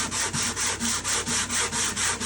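Hand sanding of a thick wooden guitar soundboard, a steady rhythm of about nine even back-and-forth strokes, close and loud with a gritty rasping hiss, no voices.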